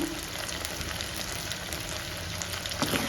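Ginger garlic paste frying in oil in a pan for a homemade chicken pickle, a steady close sizzle with faint crackles and a few stirring scrapes.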